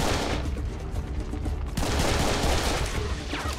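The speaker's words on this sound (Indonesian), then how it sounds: "Waduh, ada yang nembakin." Gunfire in the first-person shooter Serious Sam 3 BFE, a dense continuous fusillade of loud shots and impacts blending with game music and effects throughout.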